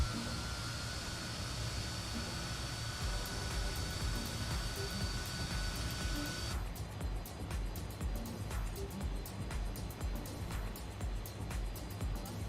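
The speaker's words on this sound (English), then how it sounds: "Alright, good engine start." A Fokker F28 jet engine spools up in Microsoft Flight Simulator, a steady rumbling whine with a high tonal hum that shifts partway through into a broader, rougher roar, continuous and loud throughout.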